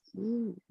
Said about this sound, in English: There's a bird that's going crazy.